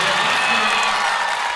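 A volleyball crowd cheers steadily for the Vikings in an indoor gym, a dense, continuous roar of voices and noise with no breaks.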